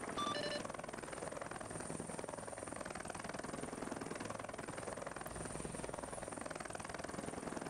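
A CH-53 transport helicopter in the military video game ArmA 3 gives a steady, loud rotor thrum with continuous engine whine, heard close and unbroken throughout.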